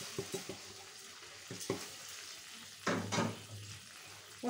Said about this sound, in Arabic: نحمر حبه رز بشعريه كده حلوين